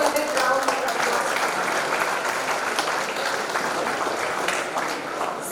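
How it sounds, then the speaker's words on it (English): Audience applause at a university Independence Day celebration, sustained clapping from a large crowd, loud and steady, easing slightly toward the close. "So please give a big round of applause."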